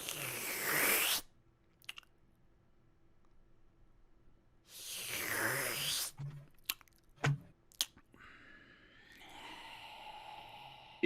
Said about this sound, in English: the audible slurping that you have heard throughout your nightmares is ruminating from a particularly dark dream